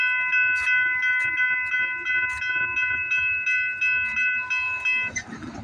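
A train passes on the Alton subdivision, with steady tonal horn or whistle notes held over a continuous rumbling, rattling rail noise that stays loud throughout and roughens near the end.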